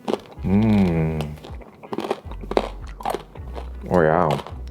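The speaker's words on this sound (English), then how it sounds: "Major crunch going on." Crispy crackling roast pork belly, air-fried Siu Yuk, is bitten and chewed up close, giving crunchy bites and crackles between voiced murmurs of enjoyment.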